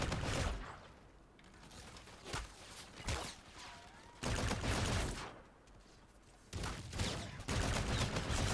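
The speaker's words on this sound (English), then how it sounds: "It just shoots lasers instead of shooting actual bullets. And that kind of throws the sound off for me. It's still pretty much the AK-47." Laser-firing AK-47 in Call of Duty: Infinite Warfare, a video game: loud bursts of rapid gunfire come in several separate volleys, with short quieter gaps and some mechanical clatter between them.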